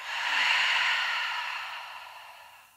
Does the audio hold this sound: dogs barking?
no